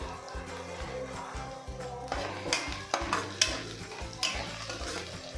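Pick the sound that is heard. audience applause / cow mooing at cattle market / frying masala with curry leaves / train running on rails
frying masala with curry leaves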